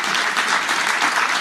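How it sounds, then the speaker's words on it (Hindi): Audience applause at a News 24 Manthan 2025 event stage, steady dense clapping from a large crowd, even and sustained throughout. "एक बार जोरदार तालियां बजा दीजिए।"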